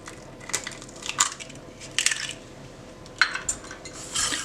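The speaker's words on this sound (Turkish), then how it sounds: "Yumurta ile şekeri karıştırıyorum güzelce ki yumurtanın parçaları kalmasın hiçbir şekilde." Egg and sugar being mixed in a bowl for pastry cream, heard as scattered clinks and scraping strokes of a utensil against the bowl, close up over a quiet background with no talking.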